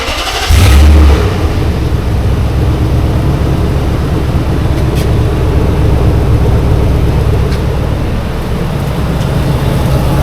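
A Nissan Titan pickup truck with a freshly repaired tailpipe cranks and fires up with a loud burst, then settles into a steady, rumbling idle that runs on without a break.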